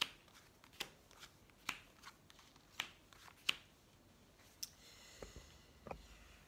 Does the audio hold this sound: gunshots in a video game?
no